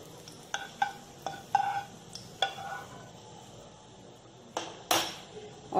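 Fried bread kababs set down onto a plate in a home kitchen, giving a handful of sharp clinks and light taps spaced irregularly, close and fairly crisp against a quiet background.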